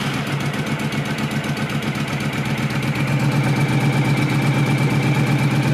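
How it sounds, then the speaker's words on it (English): A 2009 Honda VTX1300T motorcycle engine idling with no choke or enricher, a loud, close, steady low rumble with an even pulsing beat that grows slightly stronger partway through. "Just idle now without any choke or enricher."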